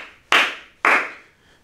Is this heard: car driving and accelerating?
no